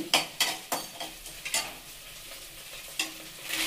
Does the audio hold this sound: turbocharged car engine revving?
no